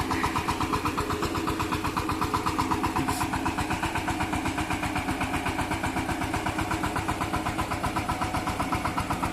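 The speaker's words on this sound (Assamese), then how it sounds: "পুৰা ধুনীয়াকৈ ট্ৰেক্টৰ চলি আছে" A steady, rhythmic engine of a homemade automatic tractor in Duliajan chugs without pause, a close, even mechanical throb running throughout with no voices.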